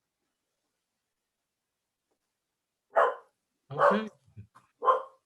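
Dogs on a beach let out a few short barks, three or four separate woofs spaced apart, with a brief spoken word among them over otherwise silent background.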